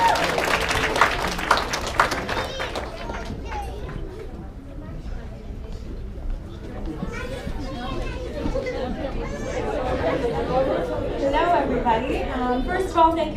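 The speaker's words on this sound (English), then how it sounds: "Big round of applause for Amisha." A graduation party crowd breaks into a round of applause, dense clapping at first that thins out, with chatter and voices mixing in toward the end.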